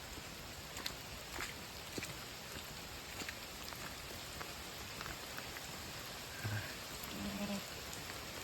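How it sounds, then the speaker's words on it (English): Steady rain falling outdoors near a creek, a dense even patter of drops on surfaces with a few louder individual drips, heard alone without voices. "Thankful for the rain."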